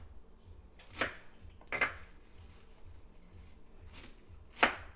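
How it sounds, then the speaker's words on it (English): Knife shredding cabbage for vegan tacos on a cutting board: four separate crisp chopping strokes spaced about a second apart, close and fairly quiet, with no talking. "now he's just shredding some of the cabbage to go on top of the taco"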